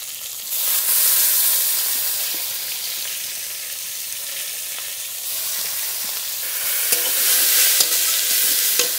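Mustard greens fry and sizzle steadily in a hot pan, a loud continuous hiss that swells at the start and again toward the end, with occasional stirring clicks and no talking.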